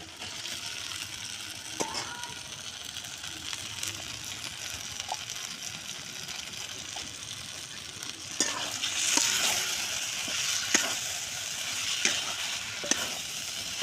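Cauliflower sautéing in a pan for cauliflower yogurt korma sizzles steadily, with intermittent stirring scrapes and light clicks of a spatula that grow a little louder toward the end.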